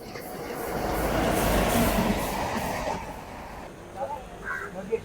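A passenger train at platform 3 of Sawantwadi station in Maharashtra rumbles past loudly, its noise swelling and then fading, leaving quieter platform sounds with a few faint knocks and voices near the end.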